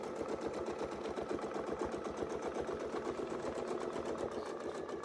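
Sewing machine stitching a quilted wreath design, its needle hammering in a fast, even rhythm that runs steadily and loud throughout.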